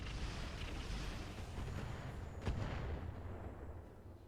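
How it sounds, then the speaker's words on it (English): Missile barrage in BattleTech with the Roguetech mod, heard as a faint, distant rumbling roar with one sharper impact in the middle, fading out afterward, with no talk. "Nice missile barrage."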